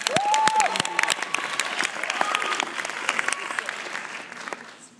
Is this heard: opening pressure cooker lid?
no